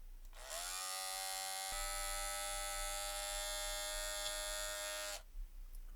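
A cordless Rattlesnake hair clipper motor buzzes steadily and loudly up close for about five seconds, a harsh, rattly whine with no talking over it.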